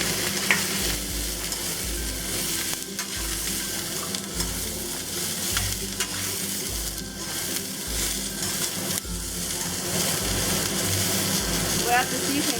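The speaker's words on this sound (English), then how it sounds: "Add the garlic stems." Garlic stems and shallots stir-frying in a hot wok, a steady sizzle with repeated scraping strokes of the spatula, close and continuous throughout with some faint talk in the background.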